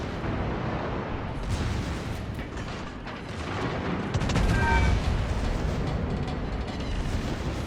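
Battleship secondary guns in World of Warships fire rapidly on a West Virginia 44, a loud, dense, continuous barrage of overlapping booms that rises slightly in intensity midway, with no voices.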